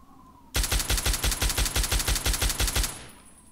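Automatic weapon fire in the game Fallout 3, one loud sustained burst of roughly a dozen rapid, evenly spaced shots lasting a couple of seconds, then a brief fading tail.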